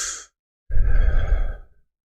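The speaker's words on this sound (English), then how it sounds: "that was a big yawn" A big human yawn during a long live stream: a short breath in, a pause, then a loud, drawn-out exhale of about a second that trails off into silence.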